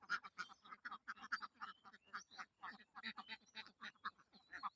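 Ducks on a duck farm quack in a continuous, rapid, overlapping chatter of short calls. The sound is faint and somewhat distant, with no talking.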